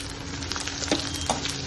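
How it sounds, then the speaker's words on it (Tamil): Onions and curry leaves fry in a pan with a steady, dense sizzle and a couple of soft pops or crackles, heard close and on their own. "பெரிய வெங்காயம், கருவேப்பிலை எல்லாத்தையும் போட்டு நல்லா வதக்கணும்."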